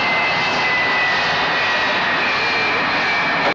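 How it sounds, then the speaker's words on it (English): Airplane engines roar loud and steady in a dramatic 1971 giallo thriller scene, a continuous jet-like whine sustained throughout before cutting off abruptly at the end. "There's some great sound design here of an airplane taking off"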